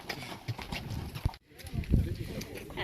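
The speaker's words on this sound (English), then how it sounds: "You're have plenty of time with the next horse. It's very slow. A mule." A mule plods along a canyon trail, its hooves clopping in a slow, uneven rhythm close by while people talk over and between the steps.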